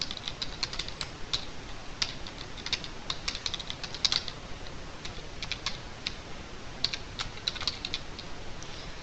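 Names are typed into a form on a computer keyboard, a close run of quick, irregular key clicks with short bursts and brief pauses, and no voice.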